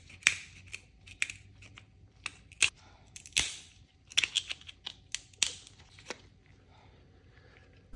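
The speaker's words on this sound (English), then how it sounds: "I find using scissors here is just the easiest way to go" Sharp, isolated crunching snips of scissors cutting through lobster shell, close and irregular, separated by quiet pauses.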